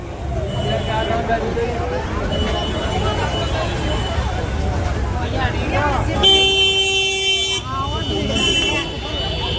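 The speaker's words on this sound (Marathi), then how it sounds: "साईडला बघा ट्रॅफिक किती लागलं" Busy road traffic near a temple in Vrindavan, with engines rumbling and car horns honking, including a long loud blast near the end, with people talking over it.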